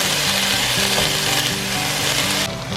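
Onions frying in a hot pan for a Salisbury steak supper, with loud, steady sizzling and a utensil stirring and breaking them up.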